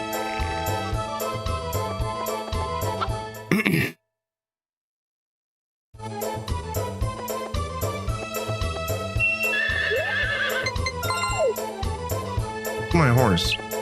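A horse neighs in the Harvest Moon 64 farm video game, with whinny calls rising over steady looping game music, broken by a brief silent gap midway.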